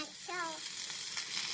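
Fish frying in a pan at home, a soft steady sizzle running throughout, close by, with a brief voice-like tone near the start.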